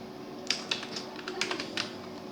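Several soft, irregular keystrokes on a computer keyboard while entering a database name in Visual Basic 6, quiet and close, with faint room hum beneath.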